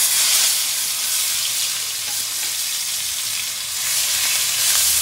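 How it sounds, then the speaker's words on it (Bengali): Ginger, garlic and onion paste with five-spice sizzles loudly in hot oil, a dense, continuous hiss close up that swells and eases slightly, with no talking. "তারপরে এটাকে ভালো করে কষাতে হবে যাতে কাঁচা গন্ধটা না থাকে"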